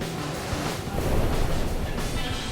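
Heavy surf pounding the beach break at Puerto Escondido, a loud, dense roar of crashing water that swells midway through and keeps churning, with some wind rumble on the microphone.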